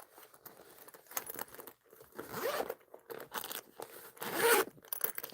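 A zipper on a bag's hidden pocket being pulled open in several quick, rasping strokes, close and fairly clear with short pauses between pulls.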